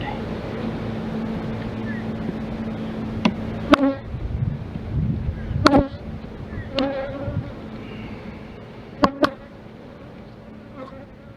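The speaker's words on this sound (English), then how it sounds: "so we have a queenless hive right here" Honeybees from an open, queenless hive, with a soft continuous buzzing hum close by. Several sharp clicks and knocks sound over it, and the hum fades slightly toward the end.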